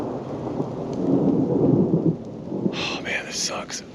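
Thunder rumbles loud and close in a thunderstorm on the John Muir Trail, with steady rain pattering on the trees, followed by a sharper crackle of rain and thunder near the end.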